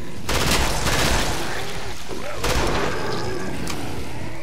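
Gunfire in the game Killing Floor: loud bursts of rapid automatic shots in two main volleys, each with a booming tail, and a few single shots after.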